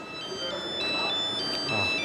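A mobile phone rings with an incoming call from a wife, its electronic ringtone repeating in steady tonal pulses above murmuring voices and background noise in an airline terminal.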